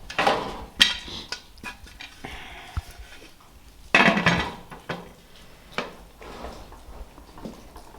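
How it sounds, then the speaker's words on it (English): Metal lid set down onto a pressure canner holding jars of split pea soup with ham, giving a few sharp clanks and clatters, the loudest near the start and around the midpoint, with softer taps and scraping between them. "And now I'm going to put the lid on."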